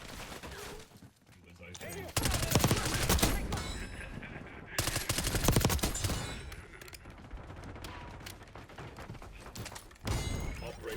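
PP919 submachine gun fire in a Black Ops 6 Hardpoint match: loud, close bursts of rapid shots, with several volleys separated by short pauses and a voice talking at times.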